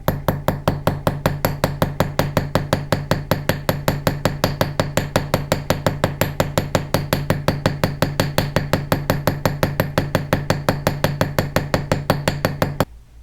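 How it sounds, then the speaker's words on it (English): A short sharp hammer taps rapidly and evenly on a fine silver bangle, roughly eight crisp metallic strikes per second in a long steady run, close and bright with no talking. "If you want a nice striated line, you can use the short sharp hammer."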